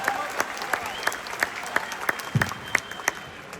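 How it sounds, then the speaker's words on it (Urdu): Audience applause for the poet Altamash Abbas at a mushaira in Dubai: a steady patter of clapping from a crowd, with sharp individual claps standing out rhythmically above the wash. "تالیاں بجا دیجیے التمش عباس کے لیے."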